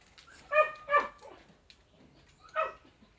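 A dog begging for a treat gives short high yips and whimpering barks, three close, clear bursts with quiet pauses between them.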